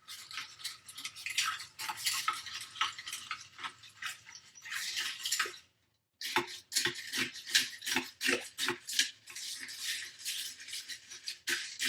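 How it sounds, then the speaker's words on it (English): Julep cocktail stirred over crushed ice, with a spoon rattling and scraping against the ice and glass in rapid rhythmic bursts, a brief pause midway, then more vigorous churning close up. "We're going to do the quick stir first."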